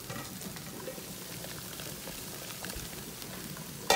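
A pot of water at a rolling boil for water-bath canning pickle jars, a faint, steady bubbling and hiss that runs throughout with no voices.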